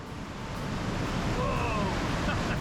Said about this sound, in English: I love the sound of that rushing water